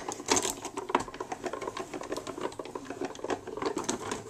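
A Swiss-dot embossing folder is cranked through a die-cutting machine with a second B plate, giving a close, steady ratcheting clatter of quick mechanical clicks for a few seconds.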